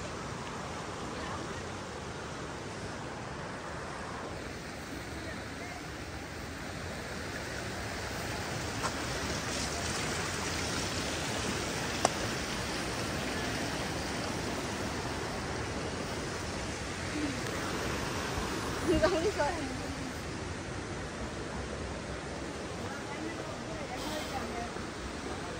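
A stream flows steadily as a broad, even wash of water noise through the whole stretch, with faint voices now and then over the top.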